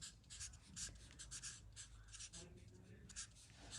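Pen writing a name on paper, rapid scratchy strokes in short bursts, close and quiet, with a low voice murmuring underneath.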